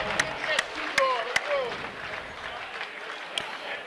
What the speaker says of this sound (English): Dino Sirocco, ladies and gentlemen, give a big round of applause